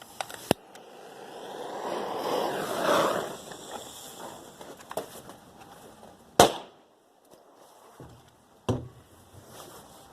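A firecracker cannon fires outdoors with one sharp, loud bang around mid-clip, then a second fainter pop, the first blast preceded by a hiss of fuse and rustling.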